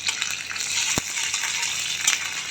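Ginger garlic paste sizzles and fries in a pan while chili chicken is cooked, a steady bright crackle with one clear knock of a utensil and light stirring noises.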